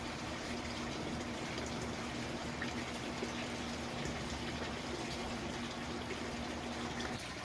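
Fertilizer-mixed water pours steadily onto bougainvillea plants, a continuous gushing wash of liquid at moderate distance with no talk.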